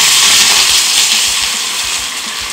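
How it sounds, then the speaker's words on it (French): Water poured into a hot pan of frying vegetarian gyozas sets off a loud, continuous steam hiss and sizzle that fades slightly as it settles. "on rajoute de l'eau."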